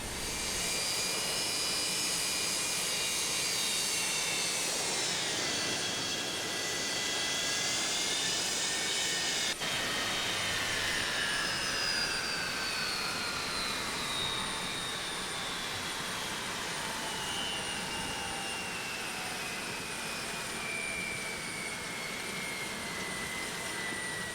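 Jet engines of a Boeing 727 in Microsoft Flight Simulator X roar steadily, then wind down with falling whines as they shut down, a loud continuous hiss filling the whole stretch with no talking.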